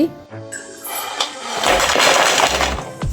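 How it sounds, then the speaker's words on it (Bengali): Crispy fried egg-and-flour snacks crunch and crackle close up in a few uneven bursts of brittle snapping, with a louder stretch in the middle. "আপনারা অবশ্যই শব্দ শুনে বুঝে গিয়েছেন এই নাস্তাগুলো কতটা পরিমাণ মুচমুচে হয়েছে"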